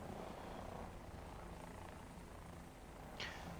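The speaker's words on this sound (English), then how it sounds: "I just heard some sort of engine." An aircraft engine in the War Thunder combat game gives a faint, steady, distant droning whir that holds through the few seconds with no voices.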